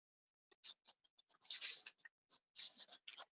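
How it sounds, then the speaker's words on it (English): Papers are shuffled and handled at a city planning commission meeting, giving a quiet series of short rustles, scrapes and slides close to the microphone, with no talking. "Sorry, I'm shuffling everything around"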